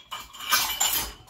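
A wire basket above a kitchen cooker being handled, a brief metallic rattle and clink lasting about a second, close and clear with no voices.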